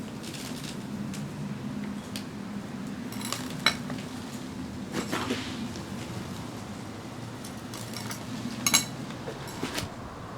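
Potting soil poured and scooped into a large succulent planter, a close, continuous gritty rustle with scattered sharp scrapes and knocks from a tool against the pot.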